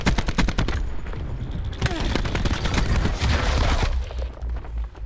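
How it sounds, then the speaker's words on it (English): Cluster grenade explosions in Black Ops 4 multiplayer, a rapid string of sharp cracking blasts and gunfire bursts, loud and close, thinning out toward the end. "Cluster grenade."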